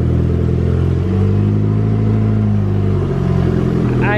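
A Mitsubishi Evo's engine idling after its first startup following a new paint job, a close, loud, steady low rumble with a slight swell in pitch partway through.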